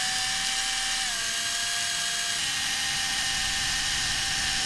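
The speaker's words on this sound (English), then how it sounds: "It's using a tungsten drill bit, putting very light pressure on it so it didn't shatter the Perspex." A steady, high-pitched whine of a tungsten drill bit boring into Perspex under very light pressure, continuous and close, with a slight pitch drop early on.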